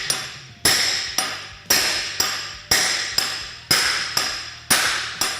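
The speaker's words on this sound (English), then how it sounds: "I'm just gonna give it some smacks until our snap ring's exposed." Steel piece hammered onto a prop shaft bearing for a Can-Am Maverick X3, about ten sharp metallic strikes in a steady rhythm with ringing decay after each blow, loud and close.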